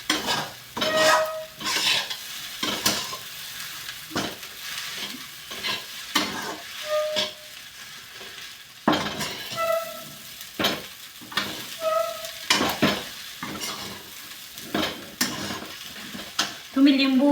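Leftover chapati chivda mixed with curd is stirred and roasted in an oiled kadhai, giving a soft steady sizzle broken by repeated scraping strokes of a spoon against the pan, close and clear, with no talking.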